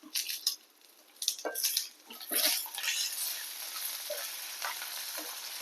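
Crackling, sizzling sounds of peanuts and curry leaves roasting in a pan, with intermittent stirring scrapes and clinks, fairly quiet and close.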